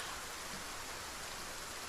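Steady rain falls outside in a video game world as an even, unbroken hiss of drops at moderate volume, with no talking over it.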